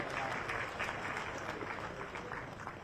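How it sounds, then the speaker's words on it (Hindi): Audience applause at a Jharkhand government event, steady dense clapping from a crowd throughout, moderately loud and even with no talk over it. "आपकी तालियां रहनी चाहिए।"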